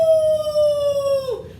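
A voice imitates a wolf howl, one sustained rising-and-falling tone that holds steadily and then drops off at the end, fairly close and clear.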